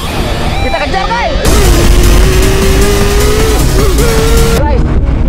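A speeding vehicle racing past on a road, its loud engine whine climbing and holding in pitch as it roars by close, with heavy rushing noise and voices heard alongside.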